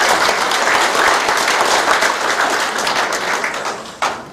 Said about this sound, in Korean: 여러분 따뜻한 감사의 박수를 부탁드리겠습니다.